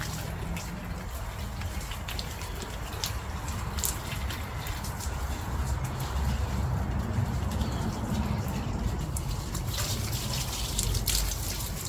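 Water pours and trickles steadily while succulents and potted plants are watered outdoors, a soft continuous splashing with faint birds and pigeons cooing in the background.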